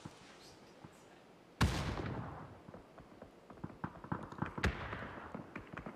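A grenade in a PUBG match goes off with a loud, sudden blast after a quiet lead-in. Its rumbling decay mixes with crackling follow-up pops and a second sharp bang a few seconds later.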